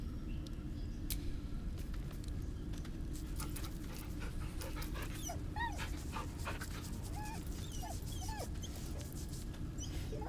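In Baldur's Gate 3, a game dog pants steadily and close over a constant low background hum, with soft high whimpers breaking in now and then toward the end.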